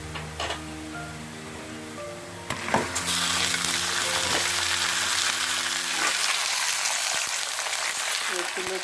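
Chicken pieces dropped into a pot of golden fried onions for a spicy chicken biryani, a loud sizzle bursting up after a clatter and then frying steadily with stirring scrapes, close by.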